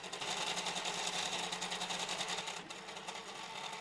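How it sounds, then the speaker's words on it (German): A cheap 3D printer fitted with a handmade extruder runs with a steady, rapid mechanical whirring and buzzing, loud and continuous, with no talking. "Die Mechanik des billigen Druckers im Zusammenspiel mit dem handgefertigten Extruder führt zeitweise zu einer recht hohen Geräuschkulisse."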